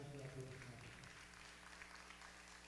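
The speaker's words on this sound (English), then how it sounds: "Clap to Jesus for that." A church congregation claps, a quiet, diffuse patter of applause that follows a brief stretch of voice at the start.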